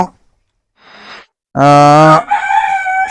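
A chicken gives a loud, drawn-out call followed by a couple of shorter clucking notes, close by, after a brief quiet rustle.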